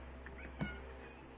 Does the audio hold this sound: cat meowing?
yes